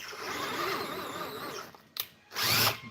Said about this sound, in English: The drill could be more powerful.